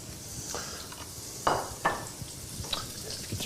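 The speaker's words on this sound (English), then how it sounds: "Hear a good sizzle on there." Coho salmon seasoned with cumin sizzles in a hot pan for a mango curry, a soft steady frying hiss with a few sharper pops and utensil scrapes, fairly quiet and close.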